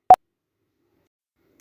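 Samsung One UI ringtone volume tone, third variant, captured on a Galaxy A12: a single very short, crisp pop-like beep at the start, followed by silence.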